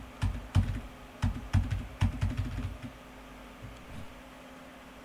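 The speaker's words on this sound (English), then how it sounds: "I want to type in PowerShell into the address bar, and then type in the command to run this thing." Computer keyboard keys clatter in short bursts of quick taps as a command is typed, close and crisp, then the typing stops into quiet room noise.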